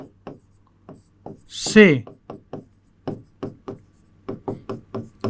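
A teacher writes on a board during a chemistry lesson, producing short rhythmic scratches and taps in quick succession, close by, with a speaking voice breaking in partway through.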